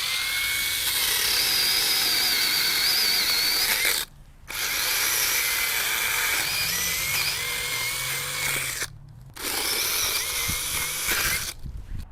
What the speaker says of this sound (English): I'm actually using this small little chainsaw. It's just a handheld guy to cut up some of these smaller limbs